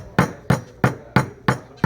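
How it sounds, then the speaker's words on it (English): A hammer drives metal clips down tight and flush on a blister pack, six sharp, evenly spaced strikes in quick succession, each a loud close thwack with a short ringing decay. "So just go ahead and hammer them down all the way tight."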